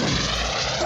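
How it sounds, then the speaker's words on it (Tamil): A fixed-wing airplane's engine gives a loud, steady droning roar with a deep rumble that holds evenly through the whole moment, with no voices over it. "அது ஒரு விமானத்தின் சத்தம்"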